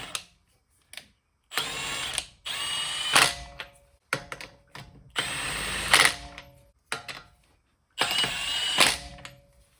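A Milwaukee Fuel 2962-20 mid-torque half-inch impact wrench runs lug nuts back onto a wheel in several loud bursts of rapid hammering, each lasting about a second, separated by short quiet gaps.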